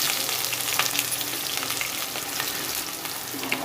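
Onion and potato fry with fennel seeds in coconut oil, a steady close sizzle with faint crackles and occasional stirring scrapes, no voices.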